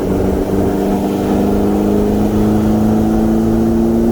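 A 2012 McLaren pulls hard from a 50 mph rolling start without anti-lag, its engine a loud, steady drone that climbs slowly in pitch as the car accelerates.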